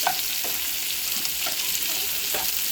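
Pancit bihon rice noodles fry in a pan with a constant crackling sizzle, while a utensil stirs and scrapes through them every half second or so at close range.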